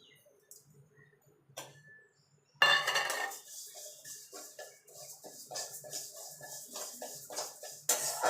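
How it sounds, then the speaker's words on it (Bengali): Moong dal is dry roasted in a hot wok, first with faint quiet taps, then a sudden loud rustle and a run of rattling, scraping stirs as the lentils shift against the metal. "মুগ ডালটা আমি ভেজে নেব।"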